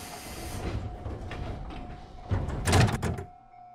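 A train departs in the JR East Train Simulator game, on the Tsurumi and Nambu branch lines: steady rolling rumble and hiss, then a louder burst of doors and air near the end before it cuts off.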